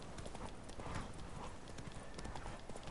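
Hooves of Roach, the horse in The Witcher 3, pound in a fast, even gallop throughout the game scene, fairly quiet but continuous with no voices.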